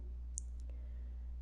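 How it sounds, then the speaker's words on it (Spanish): Computer mouse clicks while working in Global Mapper software, a couple of faint, sharp ticks over a low steady hum, with no talk. "Damos clic en la sección de LIDAR"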